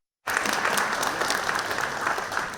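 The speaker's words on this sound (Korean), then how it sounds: "박수 부탁드립니다." Conference audience at an ICT industry outlook event breaks into sudden applause after near silence, a loud, dense burst of many hands clapping evenly for a couple of seconds.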